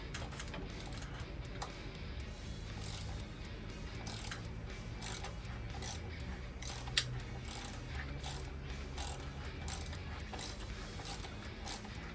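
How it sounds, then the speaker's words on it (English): A cheap hand ratchet turning a bolt on a 1929 Ford Model A Tudor gives rapid, repeated pawl clicks in quick bursts, fairly faint and close, with no talking. "And my cheapo ratchet's gonna give out on me."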